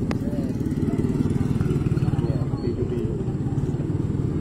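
A motorcycle fitted with a loud aftermarket exhaust runs nearby with a deep, pulsing rumble that holds steady rather than revving sharply. People talk over the engine.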